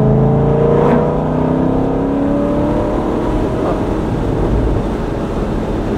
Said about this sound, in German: Maschine dreht ganz toll nach oben, schaltet sich butterweich, hat ein 6-Gang-Getriebe.